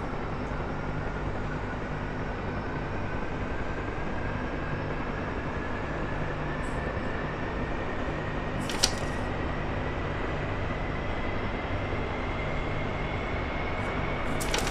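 A jet engine spools up in the DCS flight simulator game, a steady droning whine rising slowly in pitch throughout, with a couple of brief clicks from the cockpit near the middle and at the end.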